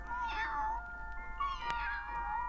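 A tabby kitten meows twice in drawn-out, wavering cries, close and clear, with a soft click between them over a steady low hum.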